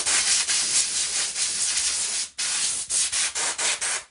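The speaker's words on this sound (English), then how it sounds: "I'm keeping the lathe speed low while I'm denibbing, certainly under 400 RPM" Fine 0000 wire wool rubs against an English oak bowl spinning slowly on a lathe, giving a loud, steady broadband scratching hiss that breaks off briefly midway, then returns in several short strokes.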